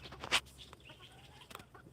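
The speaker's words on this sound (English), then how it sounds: "game hen" A game hen at a pheasantry gives a quick, sharp cluck followed by softer clucking murmurs, close and brief against light background noise.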